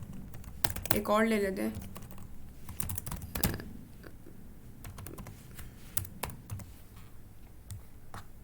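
Typing on a computer keyboard while writing CSS code, scattered clicky keystrokes in short runs, close, with someone speaking Hindi briefly at the start.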